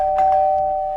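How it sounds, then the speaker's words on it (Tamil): A doorbell rings once at home, a loud, clear, sustained electronic tone lasting about a second. "அதோ காலிங் பெல் அடிக்கிறாங்க."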